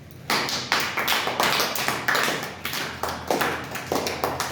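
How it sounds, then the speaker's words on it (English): Applause for a student in a live online class, about a dozen crisp, evenly spaced claps from one person close to the microphone, with no talking. "Claps for him."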